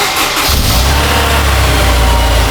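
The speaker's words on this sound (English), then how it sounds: "I'm gonna play the cold start" Car engine cold start: a brief crank at the outset catching into a loud, deep, steady high idle that holds close and alone without any talk.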